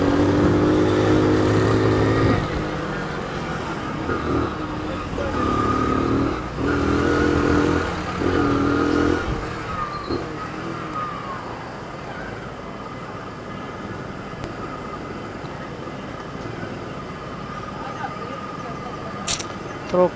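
A Honda Pop 100 motorcycle with a newly replaced engine runs along the road, its engine note steady and moderately loud, with a voice talking over it early and a quieter, smoother running stretch afterward.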